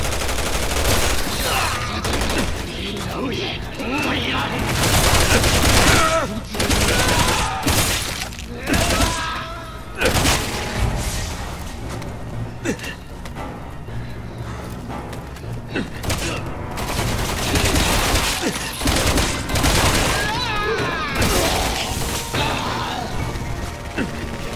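Gunfire in Resident Evil 6 combat, repeated loud bursts and crashing impacts with mechanical clatter filling the whole stretch, while voices talk over the action.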